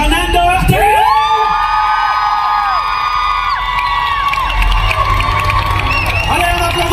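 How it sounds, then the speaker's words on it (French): A lively crowd at a Charmed cast fan event in Paris cheers, whoops and shouts with high excited voices and scattered clapping, a loud, sustained roar of enthusiasm across the whole stretch. "un tonnerre d'applaudissements, Shannon Doherty."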